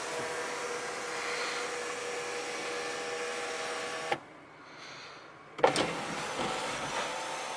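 A power sunroof in a 2019 Genesis G70 3.3T whirs as its motor runs with a steady mechanical hum, then falls quiet briefly before a click and a renewed motor sound near the end, heard inside the cabin without talking.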